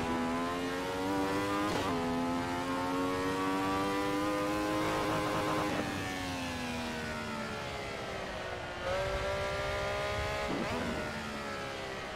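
A 1970s Grand Prix race car engine at the Nurburgring GP circuit in Assetto Corsa, with a spluttering engine and a throttle fault. The loud, buzzing engine drones steadily with rising revs, and its pitch sags and stutters several times.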